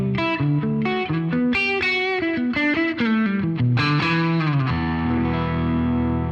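Electric guitar played through a Matchless Independence 35 amplifier, a driven, slightly distorted run of quick notes and chords that ends on a ringing sustained chord, loud and close with no talking.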